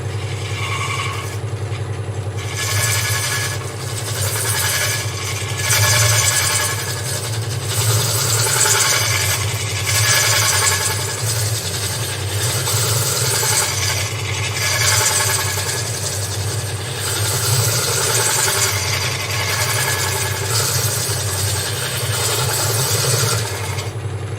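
A woodturning lathe runs with a steady motor drone while a hollowing tool scrapes shavings from inside a wooden vase, producing repeated rough bursts of cutting noise over the hum.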